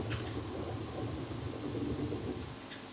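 Thunderstorm in the game Minecraft: a faint, steady low rumble with a rain-like wash lasting throughout, distant and unbroken, with no voices.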